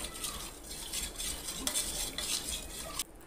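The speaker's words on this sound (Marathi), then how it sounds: "आणि हे मिक्स करायचं." A spoon stirs kokum kadhi with salt in a pot, giving a steady continuous scraping and swishing with soft clinks. The sound is close and runs throughout without talk.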